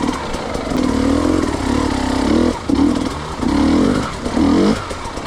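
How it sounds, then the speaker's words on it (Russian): An enduro motorcycle engine labors in second gear climbing stone slabs, pulsing at low revs in repeated surges and brief dips, close and loud with no talk. "Вторая передача. Вот, видите, слышите, как работает мотор."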